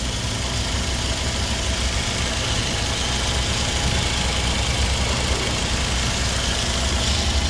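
A Chevrolet Gentra 1.2 car engine idling, a steady, close, continuous hum with even rumble and no change in pace, heard alone without talking.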